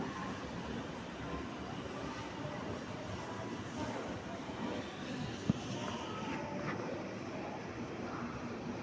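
The Netravati Express train running, a steady low rumble of rolling wagons heard at moderate distance, continuous and fairly faint throughout with no voices.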